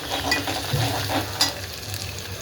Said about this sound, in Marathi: आणि हा बारीक चिरलेला कांदा टाकून घेते त्याच्यामध्ये हे कढीपत्ता पण टाकून घेते